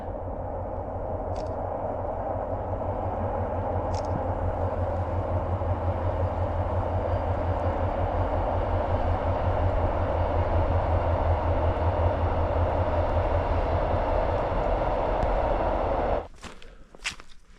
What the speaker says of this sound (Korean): 기차가 오네.